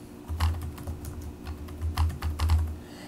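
Typing on a computer keyboard while entering a publisher name in a word processor, a quick run of close, soft key clicks over a steady low hum.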